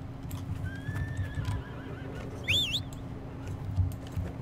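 Horse neighing in the video game Dragon Age: Inquisition, a clear whinny over soft clip-clopping hooves and faint game ambience, no talk.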